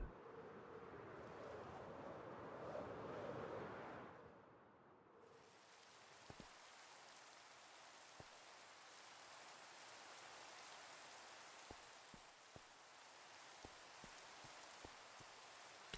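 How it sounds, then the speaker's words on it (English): Video game rain on a castle-building map falls as a steady, soft hiss for about four seconds, then fades to a faint, airy wash broken by scattered sharp drip-like clicks. "Raining again."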